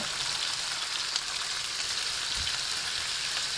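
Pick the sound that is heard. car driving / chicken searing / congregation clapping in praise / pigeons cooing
chicken searing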